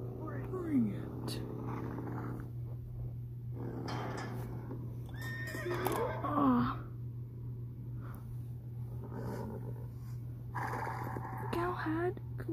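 Horse neighing repeatedly with hooves thudding underneath, whinnies rising and falling in bursts over a steady low hum, with people talking between the calls.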